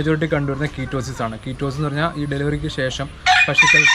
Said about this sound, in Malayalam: ഇവിടെ കുറച്ച് കോഴികളൊക്കെ ഉള്ളത് കുറച്ച് ഡിസ്റ്റൻസ് കാണും ക്ഷമിക്കുക കേട്ടോ കുറച്ച് കോഴികളുണ്ട്